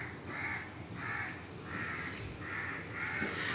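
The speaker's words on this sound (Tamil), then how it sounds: "இவ்வளோ காக்கா கூட்டமாக கத்துது" Several crows caw repeatedly in overlapping bursts, a steady rhythmic chorus of harsh calls at moderate distance over a low background rumble.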